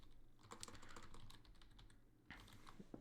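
Keys clatter steadily on a computer keyboard while text goes into an online store's design settings, a quick close run of clicks with a short pause near the end, no voices.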